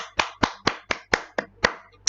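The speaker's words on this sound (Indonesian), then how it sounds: "tepuk tangan buat Tuhan Yesus ya" Steady rhythmic hand clapping from a church congregation at morning prayer, about eight firm claps in even time, close and loud, with no voices.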